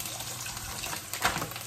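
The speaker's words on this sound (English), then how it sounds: "Now I'll add a little water to this." Water is poured into chorizo frying in a pan, making a brief, close rushing splash and sizzle that swells for a moment over a steady, faint background hiss.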